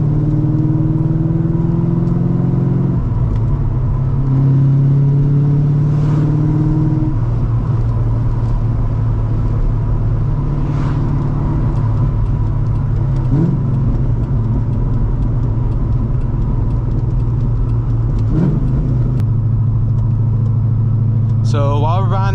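A loud cammed C5 Corvette V8 cruises with a steady, lumpy low rumble throughout, with a couple of shifts and brief throttle changes and a high squeal near the end.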